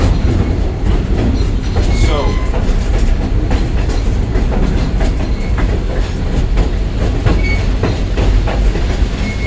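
A heritage passenger train with three passenger cars rolls steadily along the rails with rhythmic clickety-clack and a faint wheel squeal, a constant loud rumble throughout.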